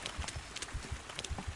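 Horse hooves galloping in the video game Kingdom Come: Deliverance, a steady, quick rhythm of dull thuds repeating about every fifth of a second, alone with no talk.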